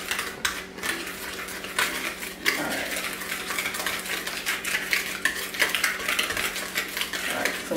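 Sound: stirring chocolate cherry cupcake batter

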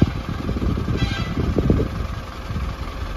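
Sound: vehicles in traffic on a ghat road

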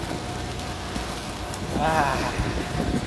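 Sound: rain

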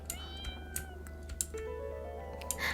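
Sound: cat hissing in video game Pocket Mirror

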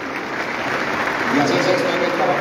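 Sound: crowd applause at ceremony

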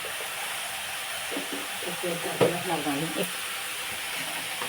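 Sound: stirring cabbage coconut fry in a pan

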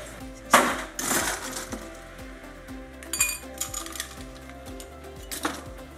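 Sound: adding ice cubes to a drink

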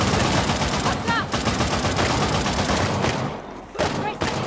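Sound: gunfire in the video game Uncharted The Lost Legacy

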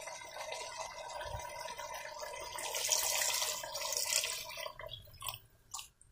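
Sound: water being poured into a pot for Peruvian beef roast

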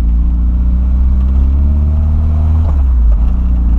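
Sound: Mercedes car accelerating, engine revving

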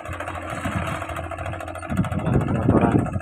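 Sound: concrete mixer engine running at construction site

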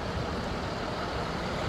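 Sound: old-style city tour bus arriving

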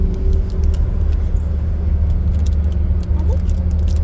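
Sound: inside a moving bus while travelling

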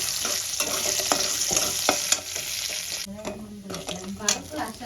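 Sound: frying dry chillies, bay leaf and whole spices in oil

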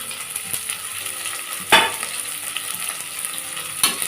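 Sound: onions frying and being stirred

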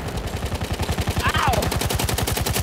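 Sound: machine gun fire in the video game Battlefield

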